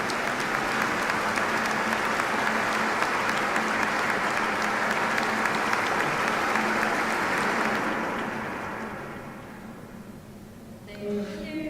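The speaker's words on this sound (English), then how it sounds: "Let us give them another warm round of applause," Sustained, loud audience applause following a musical performance by a cultural center troupe at a peace festival, steady for about eight seconds and then fading as a voice comes in near the end.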